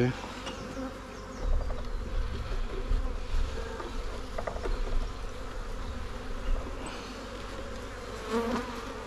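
Honey bees buzz steadily in a dense, close swarm, with occasional louder individual bees and faint handling noises around the hive.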